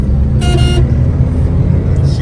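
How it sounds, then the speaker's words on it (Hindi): A car horn honks once in a short, loud, bright burst over steady road and engine noise in Karachi traffic, with a faint second toot near the end. "यहाँ पे अगर मुझे आदत पड़ी है ना ये हॉर्न बजाने की"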